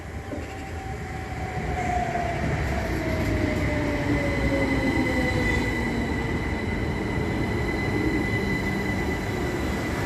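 A Southern Railway class 377 electric train rolls into Havant station with a steady rumble, rising from quieter to loud, with a falling whine and faint wheel squeal as it slows.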